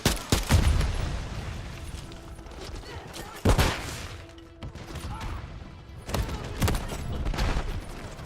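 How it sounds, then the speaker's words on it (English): Flash grenades detonate in a first-person shooter video game, giving three sharp, loud bursts spread across the stretch amid ongoing gunfire and rumbling battle noise. "Flash grenade."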